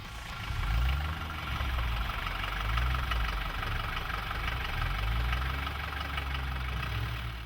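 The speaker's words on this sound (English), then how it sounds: "The characteristic clatter of a Mercedes diesel" A Mercedes W115 diesel engine idles with a steady, loud mechanical clatter and a low rumbling throb, running continuously and close by with no talk over it.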